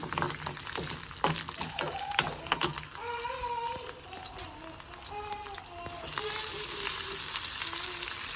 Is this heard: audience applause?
no